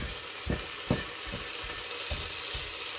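Food sizzling and crackling in a hot pan, with a steady frying hiss and rhythmic scraping thumps as it is stirred every half second or so.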